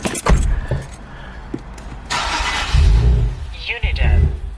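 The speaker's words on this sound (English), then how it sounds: "Let's go ahead and start this thing up." An Infiniti Q60 is cranked and started after its battery is reinstalled: keys jangle near the start, then the starter churns and the engine catches and runs, loud and close, with faint voices in the background.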